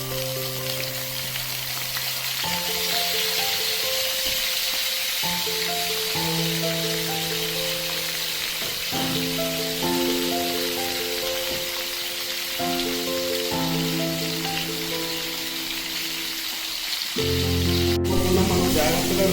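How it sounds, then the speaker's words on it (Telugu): Dried fish pieces frying in about 50 grams of oil, a steady close crackling sizzle that runs throughout alongside a low repeating hum. "మనం ముందుగా సప్పటి సవడా ముక్కలు వేయించుకుంటున్నామండి"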